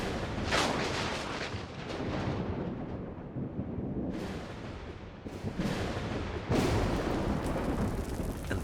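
Thunder from a storm over the Australian bush rolls and rumbles continuously, with several sharper cracks breaking through the low, heavy roar.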